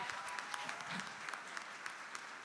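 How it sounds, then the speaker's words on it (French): A gala crowd applauds steadily at an awards presentation, dense even clapping holding at a constant level throughout without a voice over it. "On l'applaudit très fort."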